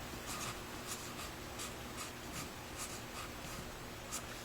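Pencil strokes scratching across paper in an introductory art drawing lesson, a steady run of short, dry scraping strokes repeating at close range with no voices, as fine tip and broad wedge marks are laid down.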